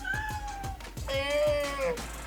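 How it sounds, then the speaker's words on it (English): A house cat, shut out by a closed door, lets out two drawn-out, insistent meows close by, the second louder and longer, over faint background tapping. "Claustrophobic cat."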